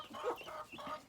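Chickens near a waterer outside a chicken house cluck softly in a few short, uneven bursts, faint and close, with no other voices.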